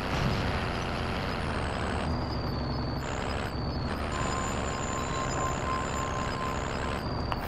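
A vehicle is driven in the video game Call of Duty: Warzone. It gives a steady, loud engine drone throughout, with shifting high tones rising and falling over the rumble.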